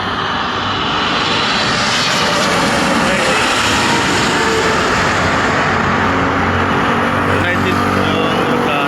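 A China Airlines airplane takes off at an airport with a loud, continuous engine roar that stays strong and close throughout, with faint wind-like hiss on top.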